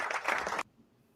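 Brief burst of applause, a dense wash of clapping that cuts off abruptly into near silence.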